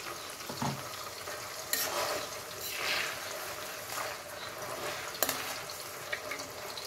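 Crushed spices and garlic paste frying in hot oil for a raw mango pickle, the pan giving a steady hiss with occasional stirring clinks and a brief louder spatter.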